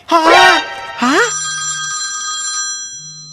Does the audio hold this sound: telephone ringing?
yes